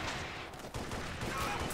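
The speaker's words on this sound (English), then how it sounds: "Oh my god, bullets are flying everywhere." Rapid gunfire crackles in the video game Space Station 13, a dense burst of overlapping shots over a short stretch with busy game noise behind it.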